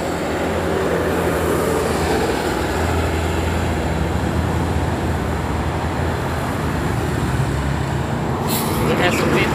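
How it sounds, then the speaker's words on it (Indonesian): A white tour bus heading toward Jogja rolls past on a roadside, its loud continuous engine and road roar filling the scene, with a voice talking over it and a brief high burst near the end. "Dari kejauhan tampak bus pariwisata."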